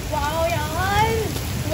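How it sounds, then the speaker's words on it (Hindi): Heavy rain pours steadily outside a cafe, a dense continuous wash of hiss with some watery splashing, heard close and constant while people talk over it. "देख रहे हो फ्रेंड्स कितनी तेज बारिश हो रही है"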